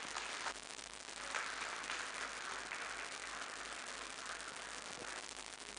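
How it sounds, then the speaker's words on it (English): A ceremony audience at an opening event applauds with sustained, dense clapping that sounds slightly distant and stays even throughout. "Thank you, ladies and gentlemen, for clapping"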